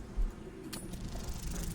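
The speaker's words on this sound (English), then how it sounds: "Perfectly fine until that sound of the dice popping up came up" Dice popping up in Baldur's Gate 3: a quick bright clatter near the start of the clip and a sharp chime-like burst under a low, steady game background.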